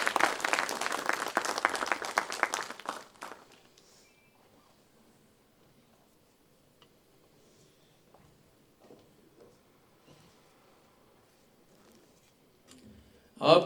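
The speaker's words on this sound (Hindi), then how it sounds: "आपसे निवेदन है कि आप मंच पे पधारें, तालियों के साथ स्वागत करें।" An audience at an Indian youth parliament event in Udaipur applauds a guest coming onto the stage, a loud burst of clapping that fades after about three seconds into quiet hall ambience.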